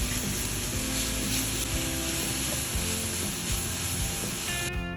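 Salted meat for hayashi rice sizzles steadily in a hot pan as clumps are broken apart while searing. The frying is close, loud and continuous, with occasional scraping from stirring and no talking.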